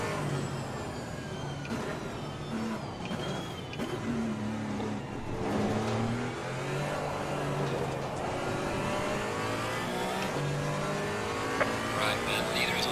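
Porsche 718 Cayman GT4 car in Assetto Corsa Competizione at Suzuka at night, its engine note steady and loud, then dropping in pitch under braking, with someone talking over the drone.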